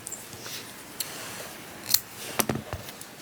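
Scissors snip through crochet yarn in a few sharp, close cuts spread over a couple of seconds against a quiet room.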